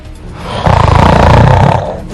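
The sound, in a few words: person snoring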